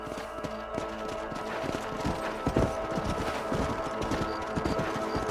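Horse hooves clip-clop in a steady trotting rhythm over a dense soundtrack in the game Red Dead Redemption, constant and close.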